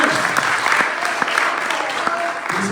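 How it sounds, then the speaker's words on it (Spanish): A church congregation on its feet applauds, a dense, loud burst of clapping filling the room for a few seconds, with voices faintly mixed in beneath it. "Vamos a ponernos en pie y darle un aplauso al Señor"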